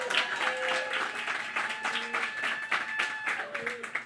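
Clapping and cheering from a live show audience at the Triad Theater after an evening of performers, mixed with voices and whistle-like tones, fairly soft and continuous.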